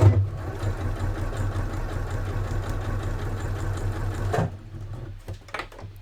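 A home sewing machine runs a test stitch of top and bobbin thread, giving a steady, close mechanical whir with a fast repetitive chatter for about four seconds before stopping, followed by a few soft handling clicks.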